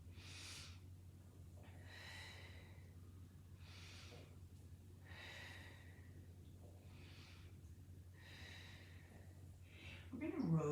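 Slow, steady breaths come and go during a Pilates plank hold, about five soft inhale-exhale cycles, faint and close, over a low hum.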